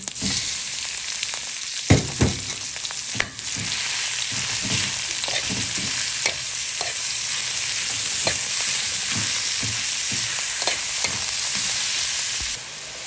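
Ground pork frying in a pan for ginataang gulay, a loud, dense sizzle punctuated by repeated knocks and scrapes of a spatula stirring, with no speech.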